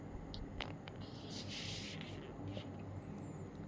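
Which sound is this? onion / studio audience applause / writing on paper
writing on paper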